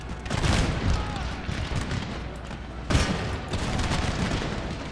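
Cannon fire from canister shot in Empire: Total War, a booming battle volley around half a second in and another near three seconds, over continuous loud musket and battlefield din.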